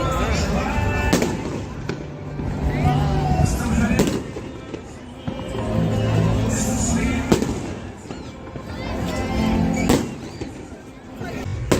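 Independence Day fireworks going off in rapid succession outdoors in the United States, a dense continuous crackle of bursts with sharper louder pops every couple of seconds, fairly near, with crowd voices underneath.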